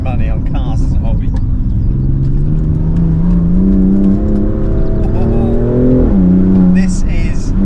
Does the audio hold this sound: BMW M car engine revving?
yes